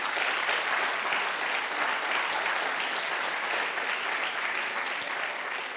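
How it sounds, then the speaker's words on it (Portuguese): A church congregation gives sustained, thick applause, a constant wash of many hands clapping at even loudness throughout with no voices on top. "Pode dar um aplauso ao Senhor Jesus."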